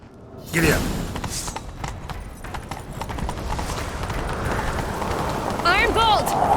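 Horse hooves galloping in The Witcher 3 video game, a rapid clip-clop of hoofbeats building into a continuous rumble of running, with a voice speaking briefly over it.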